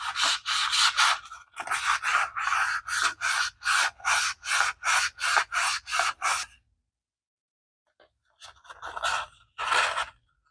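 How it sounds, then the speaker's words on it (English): Sandpaper rubbed lightly by hand over a 5.4L engine crankshaft, a steady series of about a dozen short, rhythmic scraping strokes at close range, then a pause and a few more strokes, with no talking. "start sanding it real lightly."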